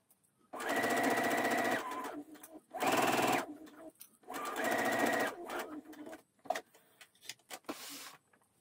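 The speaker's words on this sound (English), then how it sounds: "So you take the first pass through the sewing machine" A sewing machine stitches a French seam in three bursts of rapid stitching, close and loud, separated by short pauses and followed by light handling clicks.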